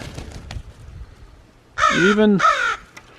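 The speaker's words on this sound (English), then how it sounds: "The magpies and crows." A crow caws loudly up close, two harsh drawn-out calls in quick succession, with faint background noise before.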